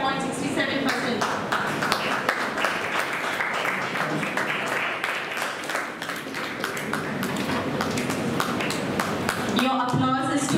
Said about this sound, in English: Your applause is too less for this high percentage.